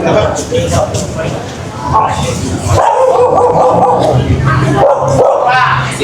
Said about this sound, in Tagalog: Uy, may aso pa dito.